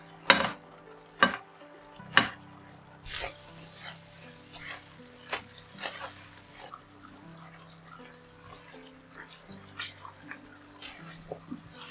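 Char siu pork cooking uncovered in a single pan as its sauce reduces and thickens, giving a steady low sizzle broken by sharp scraping stirs and clinks of a utensil against the pan, close up with no talking.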